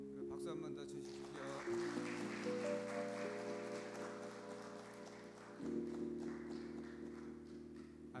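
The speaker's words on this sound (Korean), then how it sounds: "박수 한 번 더 주십시오." A church congregation claps again for an award presentation during a Sunday service, steady applause running beneath loud sustained organ-like music chords that shift in pitch partway through.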